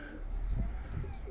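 Red pigeons for sale coo in a soft, low, murmuring run of calls against a steady background hum, without speech over them.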